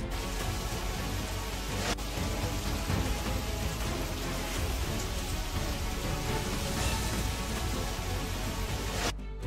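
Steady, dense rain pours down continuously, a broad hiss of drops on surfaces with no voices.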